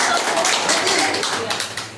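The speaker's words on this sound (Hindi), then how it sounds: "सर के लिए जोरदार ताली हो जाए" Audience clapping at a motivational talk, a steady patter of many hands sustained across the moment with a voice briefly over it.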